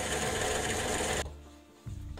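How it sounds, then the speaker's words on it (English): A hand drill bores through wood while building a replica robot's shoulder assembly, giving a close, continuous grinding rasp that stops abruptly and then briefly resumes. "You can do this by hand with a hand drill if you've got one."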